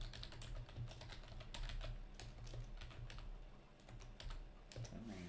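Quiet, steady typing on a computer keyboard, a continuous patter of individual key clicks with occasional heavier presses, close by and alone without talk.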